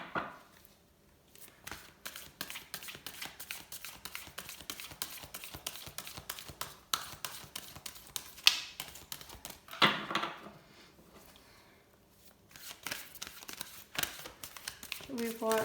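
A deck of cards is shuffled during a card reading, giving dense, papery riffling and crinkling clicks that run almost continuously for about fifteen seconds, with brief pauses and a voice talking over parts of it.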